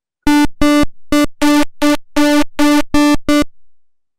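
Geometric squares and circles on a white background rendered as sound in Audacity: nine loud, clean synthetic tones of equal pitch in short, evenly spaced bursts, each a bright buzzy block, then silence.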